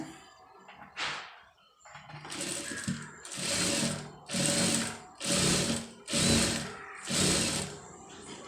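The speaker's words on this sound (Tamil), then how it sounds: "அந்த ஓரத்துலேயே வந்து தையல் போட்டு கொண்டு வந்துடுங்க" A sewing machine stitches readymade piping in a series of loud, close whirring runs, each lasting about a second, separated by short pauses.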